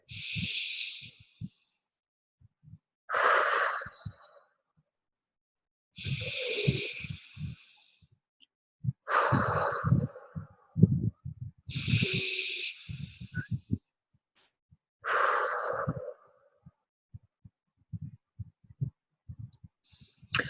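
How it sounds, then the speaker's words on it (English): Slow, deep breaths during a relaxation exercise: several long, close inhales and exhales in an even rhythm, with pauses of silence between them and no talking. "just do 3 more deep breaths"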